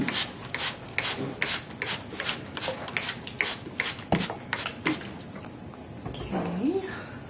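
A handful of sand poured and rubbed into a worm compost bin, giving a run of rhythmic gritty scraping strokes up close, followed by a softer stretch with a voice briefly heard near the end.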